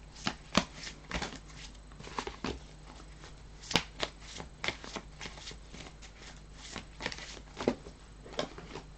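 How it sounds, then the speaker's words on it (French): Tarot cards shuffled by hand before a reading, in a steady run of close riffling and slapping bursts that carries on throughout with no talk over it. "je vais tirer les cartes"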